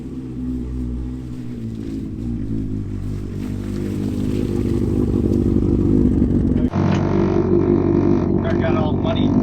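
A modified Smart car with a welded diff ploughs through winter slush, its engine droning and rising steadily while wet clatter and splashing build, with a sudden shift near the end.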